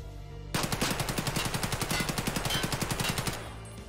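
An AKS-74U rifle in Escape From Tarkov fires a sustained fully automatic burst of about thirty rapid, evenly spaced shots, loud and close, with abrupt onset and a short tail; no talking.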